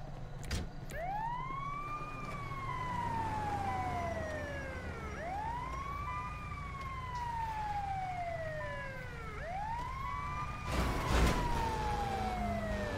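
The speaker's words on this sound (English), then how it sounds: "I got the siren." An emergency vehicle siren in the video game GTA 5 wails in repeated rising-and-falling sweeps, three long cycles over a steady low rumble, with a brief burst of noise near the end.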